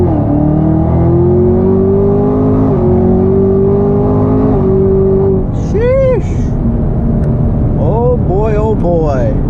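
A 2019 Chevrolet Camaro ZL1 1LE with an automatic gearbox accelerating hard on a road in Mexico. The loud engine drone rises steadily through the gears, with brief breaks at the shifts, and a voice speaks over it near the end.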